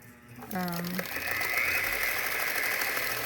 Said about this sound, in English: So I'm just sewing these strips together end to end.